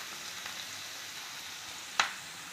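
Frying beans curry simmers in a pan with a soft, steady sizzle as onion-chili paste is stirred in, ending in one sharp spoon tap against the pan.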